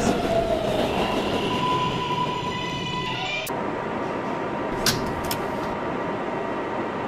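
A Roblox subway train rumbles steadily, wheels hissing on the rails, with a high whine that drops away midway and a couple of sharp metallic squeaks.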